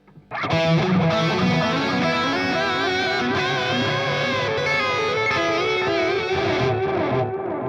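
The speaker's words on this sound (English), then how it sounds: "You can get a pretty good bit of delay on here if you crank it all the way up" Electric guitar through a Dunable Eidolon delay, reverb and boost pedal with the delay turned all the way up. Distorted sustained notes and chords ring out loud and close, smearing into long repeating echoes without pause.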